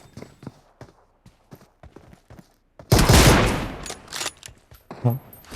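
Pistol gunfire in the mobile game PUBG Mobile, in a sniper mode match: a string of sharp, light clicks gives way to a loud, dense burst of shots that fades, with a last short crack near the end.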